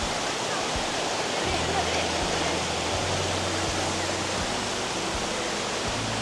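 Steady broadband rush of a river flowing at Sungai Sendat, continuous and fairly loud throughout with no gaps, a low hum running underneath.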